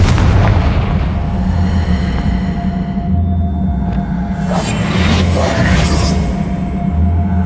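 Loud, sustained booming blasts from the Confringo explosion spell in Hogwarts Legacy, heavy low rumble with rolling bursts layered over game ambience throughout.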